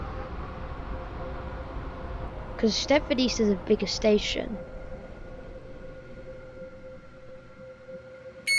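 A train running in the Roblox SCR video game, its steady low hum and rumble continuing throughout while a person talks over it for a couple of seconds.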